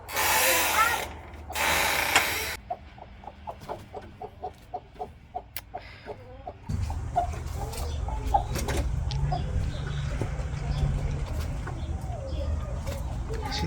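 A mother hen clucks softly in a coop with her chicks, a series of short repeated clucks, followed by a louder stretch of busy rustling and low background noise.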